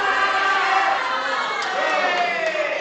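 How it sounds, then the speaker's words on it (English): Crowd at the Pan American Powerlifting Championships cheering a lifter before a deadlift, a loud, continuous swell of shouting voices that holds steady through the moment. "crowd's getting behind him"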